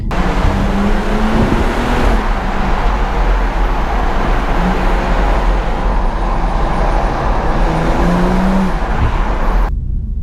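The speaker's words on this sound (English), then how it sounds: "look at that traffic" Loud, continuous road traffic roar with engines rumbling and vehicles passing close by, no voices.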